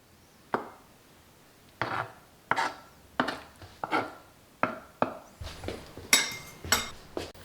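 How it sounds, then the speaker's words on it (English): A knife chops pak choi and spring onions into strips on a cutting board, a dozen or so sharp close thuds, spaced at first and then quickening into a faster run, with no one speaking. "Cut up some Pak Choi and spring onions into strips"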